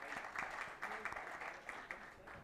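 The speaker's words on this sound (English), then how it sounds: "So can we have a big round of applause" A short round of applause from a conference audience at a cybersecurity event's inaugural session, fairly soft with uneven bursts of clapping over a couple of seconds.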